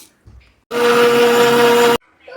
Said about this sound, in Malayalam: നമ്മളുടെ അരിമണി നമുക്ക് പൊടിച്ചെടുക്കാം